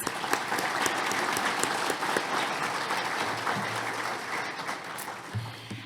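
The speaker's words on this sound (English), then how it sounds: "Maybe we can just give them a little round of applause." A conference audience at an agricultural event applauds for its sponsor, steady dense clapping filling the room for about six seconds, a low hum entering near the end.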